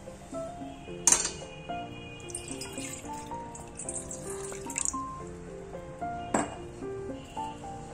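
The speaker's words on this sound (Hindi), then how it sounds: "जो हमने चीनी ली थी वो इसमें डाल देंगे और जितनी चीनी ली है उसका आधा पानी डाल देंगे" Water is poured onto sugar in a kadai to make syrup. The faint splashing comes with a few sharp metallic clinks of the pan, and quiet tonal background sound runs underneath.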